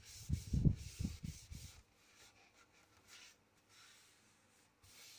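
Hands rubbing firmly along the glued edges of a photo canvas, a quick cluster of soft scraping strokes at the start, then faint quieter handling.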